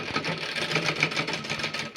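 A sewing machine stitches a petticoat waistband from the reverse side of the fabric, a fast rhythmic clatter of needle strokes running steadily for two seconds, close and moderately loud.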